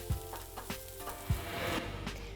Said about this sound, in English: now we're just gonna saute the shallots about 6 or 7 minutes